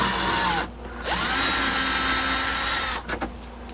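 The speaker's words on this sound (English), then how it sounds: "And just drill it into the stop." A power drill bores into a wooden cabinet under repair, running in two loud, sustained whirring bursts separated by a brief pause as the motor winds down and spins back up, then stops with a few short clicks.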